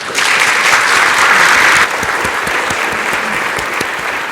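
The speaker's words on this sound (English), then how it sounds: "please join me in a very round applause for this panel" A conference audience applauds a commercial aviation panel with dense, loud clapping that drops to a lighter, thinner level partway through and keeps going.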